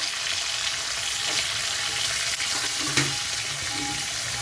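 Tomato and green chilli go into a frying prawn, potato and ridge gourd curry, making a constant close sizzle with light stirring and a small clatter near the end.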